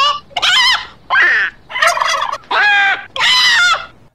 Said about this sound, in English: I'll admit I was torn which bird sound effect to put there, so I'll just play them all.